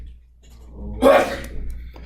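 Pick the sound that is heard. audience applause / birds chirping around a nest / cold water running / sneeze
sneeze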